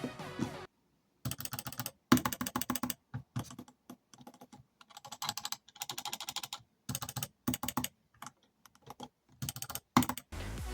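Rapid bursts of sharp plastic clicking from a Razer DeathAdder Essential mouse, close and crisp, in irregular clusters with short pauses between them; no one speaks.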